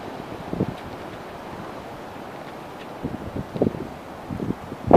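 Wind blows outdoors in low, steady gusts that buffet the microphone, with a few louder rumbling bursts.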